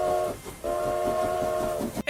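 Train sound effect with a sustained harmonic whistle blown twice, a short blast then a longer one, over low rumbling rail noise, loud and close, with no talk.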